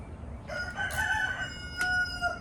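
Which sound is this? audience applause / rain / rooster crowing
rooster crowing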